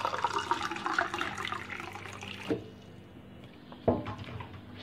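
Filtered water from a home purifier pours steadily into a container for homemade lemonade, a continuous gushing stream that stops around midway, followed by a couple of soft clunks.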